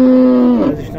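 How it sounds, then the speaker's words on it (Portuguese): A dairy cow at a livestock market in Tabira, Pernambuco lets out a loud, close, drawn-out low moo that holds steady, then breaks and trails off within about a second. "Essa outra vaca aqui, vacão arrumado."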